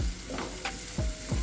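Onions frying in a pan make a brief, close sizzle broken by a few quick scraping stirs, with no talking.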